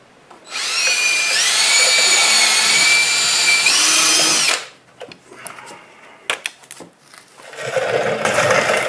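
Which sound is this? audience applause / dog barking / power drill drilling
power drill drilling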